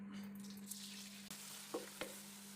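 Crushed onion, green chilli, ginger and garlic fry in hot oil in a Kerala-style clam meat stir fry, a soft steady sizzle with a few brief clinks and scrapes of stirring, no talking.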